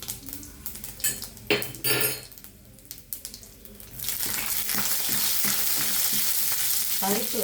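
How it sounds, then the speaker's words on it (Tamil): Oil sizzles and crackles loudly as mustard seeds and urad dal hit the hot pan for tempering, a steady frying hiss after a few metallic scrapes and clinks of a spoon. "கடுகு உளுந்தம் பருப்பு தாளிக்க போடலாம்"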